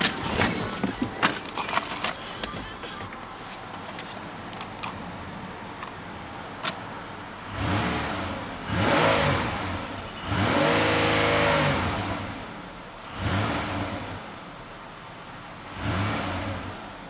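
A 2008 Pontiac Grand Prix engine revs and accelerates in several rising surges, each pull whooshing up then easing off, heard fairly close with some road and wind noise between.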